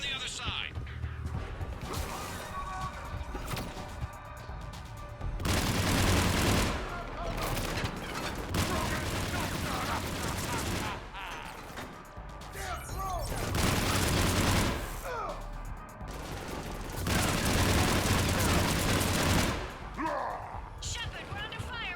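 Gunfire in a Mass Effect 3 Citadel DLC battle, with dense rattling volleys and crashes coming in loud surges, mixed with mechanical clatter and voices talking throughout.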